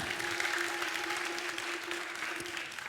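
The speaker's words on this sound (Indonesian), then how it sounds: "kita boleh beri tepuk tangan yang meriah" Audience applause for a youth group team at a Balinese quiz show in Denpasar, steady and sustained clapping from a crowd throughout, fairly loud and unbroken.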